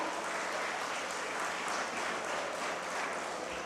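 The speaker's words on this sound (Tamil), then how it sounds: "ஒரு பலத்த கைத்தட்டல் கொடுத்தலாம்." A large audience at a televised Independence Day debate event honouring Pollachi personalities applauds in a dense, steady roar of clapping that holds at an even level throughout.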